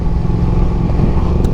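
A Triumph Daytona 660 three-cylinder motorcycle engine, derived from the Trident 660, running loud and close with a steady deep rumble and no talking.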